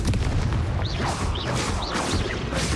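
A Confringo blasting spell in Hogwarts Legacy erupts as a loud, sustained rumbling explosion with crackling whooshes and sweeping magical tones layered through it, heavy and close throughout.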